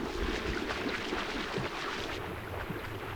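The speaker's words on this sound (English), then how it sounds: "Look at the water spraying everywhere." Broadband rushing and splashing water as dogs and lechwe run through it on safari, steady and fairly loud throughout, with a low rumble underneath and no voices.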